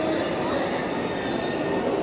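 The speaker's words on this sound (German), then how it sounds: "Ah, da kommt gerade ein ICE." A loud, steady roar of an ICE high-speed train rolling through a station, with a broad rushing wash of wheel and track noise and no clear voices.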